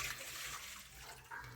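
Water is poured into a cooking pot in an African home kitchen, ready for boiling traditional vegetables such as mrenda. A brief, quiet, steady splashing pour with no talk.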